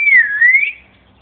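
Grey parrot giving a single clear, close whistle that slides down and back up in pitch, then fades out into quiet.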